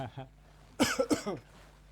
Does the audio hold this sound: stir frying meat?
no